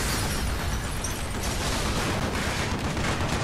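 Gunfire in Call of Duty: Black Ops, a dense, unbroken roar of overlapping shots and blasts, loud and steady for the whole stretch with no clear gaps.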